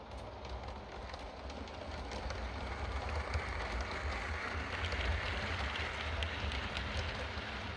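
A steam model railway train rumbles steadily along its track, a continuous low clattering hum at moderate volume with faint clicks, no voices.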